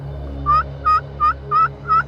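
Wild turkeys in a field give five short, clear gobble-like calls in a steady rhythm, about one every third of a second, fairly close and loud over a low constant hum.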